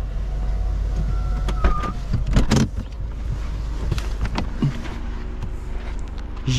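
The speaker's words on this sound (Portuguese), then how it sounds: "Eu não vou nem desligar o carro pra gente não perder o ar." A car engine left idling with the air conditioning running while parked in a wealthy neighbourhood in Spain, a steady low hum under scattered clicks and knocks, with a faint voice.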